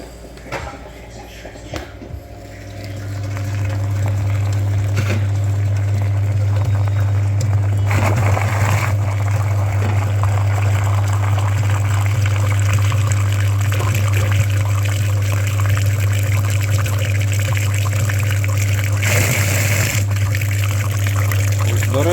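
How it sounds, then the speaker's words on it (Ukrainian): Water flushing through the cooling system of a Chevrolet Aveo engine, with the heater core connected separately, gives a loud steady rushing flow over a constant low hum, with occasional knocks and clatter. "Двигун зараз миється сам окремо, без пічки, без переднього радіатора."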